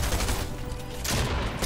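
SMG gunfire in a video game, a quick burst of shots with loud broadband blasts at the start and again near the end, heard alone without talk.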